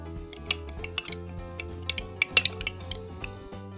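Spices, including onion powder, being mixed in a small bowl for a pepperoni pizza: light clinks and taps of a utensil against the dish, scattered and irregular, close and fairly quiet over a steady low background hum.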